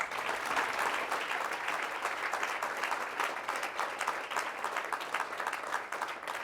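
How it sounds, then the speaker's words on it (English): Loud, sustained applause from a provincial coordinators' meeting audience fills the room, steady and dense throughout with no break. "Can we give Hannah the biggest round of applause ever?"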